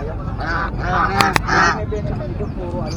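Geese honk loudly in a few close, repeated calls at a busy pet market, with people talking in the background.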